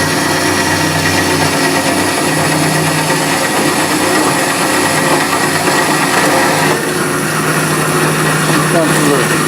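A power saw blade grinds through metal in a machining shop, a loud, steady tonal whine that holds continuously throughout with little change.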